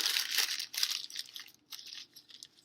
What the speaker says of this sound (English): take a piece of newspaper, crumple it up, and put it inside your pocket.